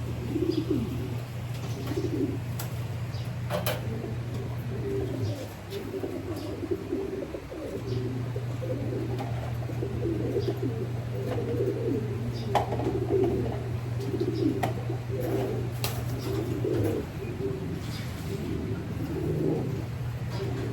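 Grizzle pigeons in a breeding loft give low, soft, repeated coos that overlap steadily, with faint chirps and small clicks nearby.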